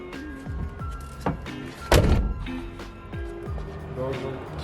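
A Datsun 280ZX car door shuts with a single solid thunk near the middle, surrounded by low background rumble and people talking.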